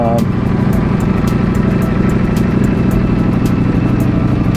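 A 2018 Ducati Panigale V4S engine running loud and close, a steady, throbbing idle that holds even throughout.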